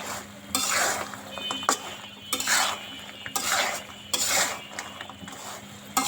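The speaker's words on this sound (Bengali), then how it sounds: "এভাবে আস্তে আস্তে নাড়তে হবে নাড়তে নাড়তে চিনিগুলো গায়ের সঙ্গে মিশে আসবে" Sugar is stirred slowly into fried murali gaja sweets in a pan: rhythmic scraping and rustling sweeps of a spoon repeat several times, with soft metal clinks between strokes.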